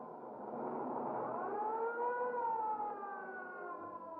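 An ambulance siren heard alone, a single slow wail that rises and falls over about four seconds, moderately loud.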